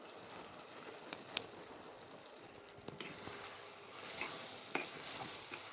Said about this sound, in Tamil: நல்லா பச்சை வாசம் போகிற அளவுக்கு ஒரு நிமிஷம் வதக்கி விட்டுக்குவோம்